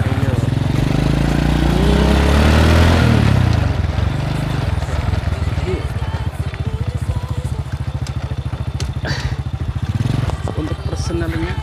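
A 2000 Honda Supra standard motorcycle engine starts with a loud rev, then settles into a fast steady putter as the bike rides off on a test run, heard up close.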